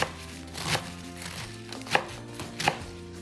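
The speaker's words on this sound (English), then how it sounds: "And I'll be chopping the whole spinach off camera to save time." Knife chopping spinach on a board, a few sharp distinct chops spaced about a second apart, close and fairly quiet, with no talking.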